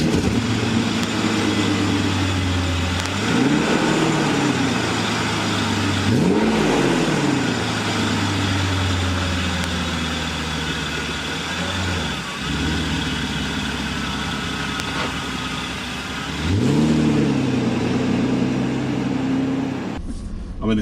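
A 1994 Mercedes 600SL with a 7.2-litre V12 drives along the road, its engine droning steadily with a few rising and falling surges as it accelerates, heard loud and continuous from inside the car.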